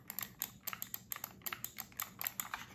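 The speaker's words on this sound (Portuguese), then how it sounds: "Olha o barulho do clique." Rapid clicking of a Logitech M170 computer mouse button, a string of sharp, close, fairly quiet clicks in an uneven rhythm, about a dozen over a few seconds, with no talking.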